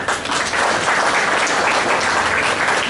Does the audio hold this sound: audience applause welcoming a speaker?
yes